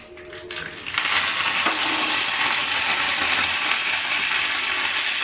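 Mustard seeds crackle and pop in hot oil in a home kitchen, a dense continuous sizzle that bursts up loudly after a quieter first second, with no talking.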